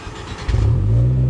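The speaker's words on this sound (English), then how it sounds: "Go ahead and start the car" A Fiat 124 Spider engine cranks and catches, settling into a loud, steady idle right up close.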